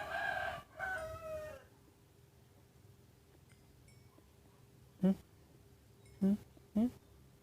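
Chicken clucking from Minecraft, a video game on mobile: three short, loud cluck bursts spaced apart, after an opening stretch of talk, over a low steady background hum.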